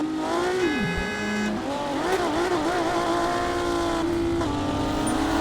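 A car engine in the racing video game Revhead revs and shifts through its gears, its pitch climbing and dropping, while tires squeal through a drifting turn, loud and continuous throughout.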